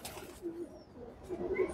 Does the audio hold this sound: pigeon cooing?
yes